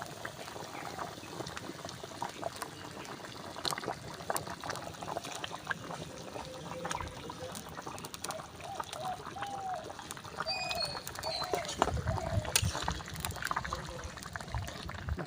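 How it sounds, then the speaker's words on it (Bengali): Potatoes are tipped into a boiling goat meat curry broth, making soft splashes and bubbling trickles with occasional clinks of pot or lid, fairly faint and close, under a person's speech. "ঝোলটা আমার ফুটে গেছে, গামলাটা খুলে আমি এবারে আলুগুলো দিয়ে দেবো।"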